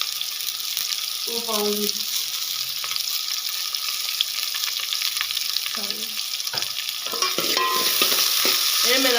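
Onions soften in oil in a pan as they are stirred, a continuous bright sizzle with scraping stir strokes, while someone speaks briefly in short bursts over the frying.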